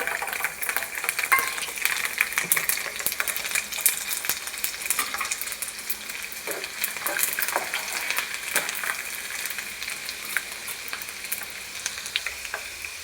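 Garlic fries in hot oil for homemade chilli oil, giving a dense, continuous crackling sizzle at steady volume with scattered pops and light utensil taps throughout.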